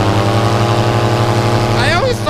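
Tornado 280 XC boat's engine runs steadily at a loud, constant drone with strong low harmonics, while a voice briefly rises over it near the end.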